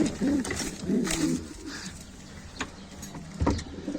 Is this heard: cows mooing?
no